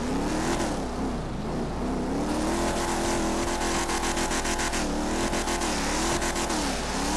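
A car engine revs hard during an attempted wheelie, a loud, continuous roar whose pitch rises and falls with throttle changes, alongside fluttering mechanical rattle.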